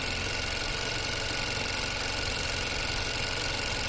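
A 2016 Chevrolet Cruze 1.4L engine, fault code P1101, idles with a steady, even hum and mechanical rattle, close and continuous without any voices.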